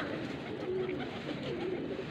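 A female pigeon cooing in soft, repeated low hoots over a steady background of rustling ambience, fairly close and moderately loud.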